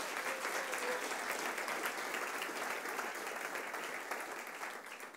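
A church congregation bursts into strong applause for the Lord Jesus at the close of a sermon, a dense wash of clapping that holds steady and begins to fade at the end.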